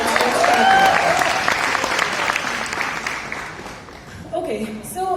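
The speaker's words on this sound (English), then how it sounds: "So give them a huge round of applause" Applause from an audience at a YouTube FanFest creator camp in India swells loud and dense, then thins and tapers off, with a voice coming in over the tail end.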